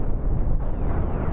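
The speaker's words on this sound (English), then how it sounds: "The cannon fire is absolutely annihilating that." Heavy cannon fire and explosions in the space combat game Star Trek: Cosmoteer, a dense, continuous low rumble of overlapping blasts that stays loud throughout with no talk.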